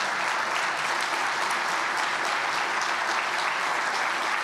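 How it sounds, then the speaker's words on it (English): An audience at an event honoring veterans breaks into continuous, even applause, a dense wash of many hands clapping at a steady level for several seconds. "ask all our veterans to stand so that we can recognize and applaud you"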